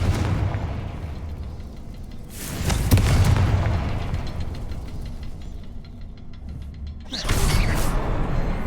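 Confringo spell blasts in Hogwarts Legacy, a deep booming explosion around the three-second mark and another near seven seconds, with a steady rumbling game soundscape running underneath.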